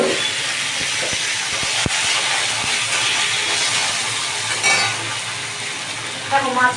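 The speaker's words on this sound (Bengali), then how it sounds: "এবার আমি আলুগুলোকে ভালো করে ভাজবো।" Potatoes fry in hot oil in a pan after katla fish heads were fried, giving a steady, close hiss and sizzle with a few sharp crackles throughout.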